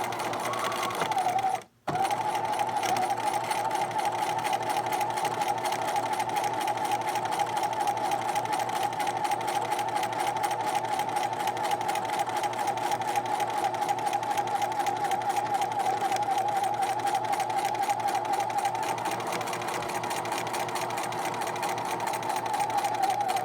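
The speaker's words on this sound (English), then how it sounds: "I'm all set to go ahead and stitch the casing as close as I can to this edge" A sewing machine runs continuously and evenly for over twenty seconds, stitching a waistband casing close to the fabric edge. Its rapid needle rhythm is close and steady, with only one brief pause near the start.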